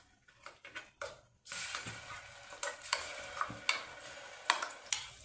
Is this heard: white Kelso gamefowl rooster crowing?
no